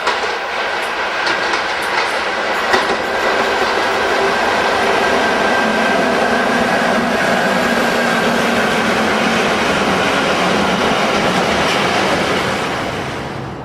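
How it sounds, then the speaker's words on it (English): A Felixstowe-bound freight train headed by two Class 86 electric locomotives passes at Stafford, a steady loud rolling roar with wheel clatter that fades slightly at the end. "'86, 612 and Classmate head a Felixstowe bound train at Stafford."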